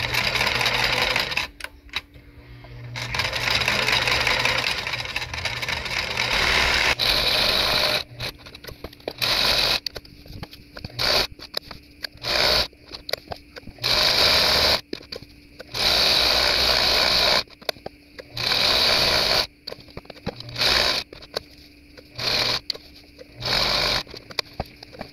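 A sewing machine stitches seams on a white bed sheet being made into a dust mop, running in repeated fast whirring bursts of several seconds separated by short pauses, close and loud.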